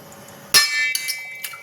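A glass is set down on a kitchen surface during rava dosa preparation, giving one sharp clink followed by a few lighter, fainter taps.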